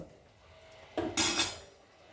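A spoon clanks and scrapes against a cooking pot while a fenugreek-leaf, potato and tomato kurma with coconut-cashew paste is stirred. A quiet simmer runs under two short metallic bursts near the middle.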